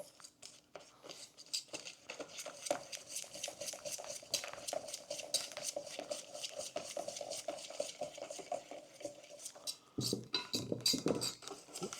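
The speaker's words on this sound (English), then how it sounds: "it only takes about 30-45 seconds of whisking this around until it's fully dissolved" A whisk stirs protein powder into crepe batter in a bowl, with quick rhythmic scraping and clinking against the sides, continuous and close, growing briefly more vigorous near the end.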